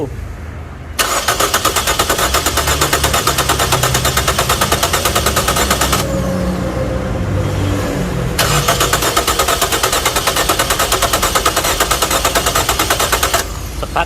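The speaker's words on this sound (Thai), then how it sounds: "ให้ทีมงานสตาร์ทเครื่องยนต์" A Nissan Sylphy engine, after fuel injector servicing, cranks and catches, then runs loudly with rapid rhythmic firing, briefly softening midway before revving back up to a steady idle.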